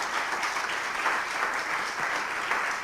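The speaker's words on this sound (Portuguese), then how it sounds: "Você pode aplaudir Jesus?" A church congregation at a celebration service applauds with steady, dense clapping that holds evenly throughout, heard at a moderate distance in a large room.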